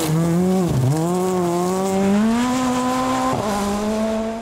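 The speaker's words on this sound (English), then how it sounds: "first on the heavily gravelled road is Gaurav Gill in his MRF Skoda Fabia" An MRF Skoda Fabia rally car is pushed hard on a heavily gravelled stage in a rally event, its engine note rising and dipping with two sharp gear changes, loud and close throughout with no voices.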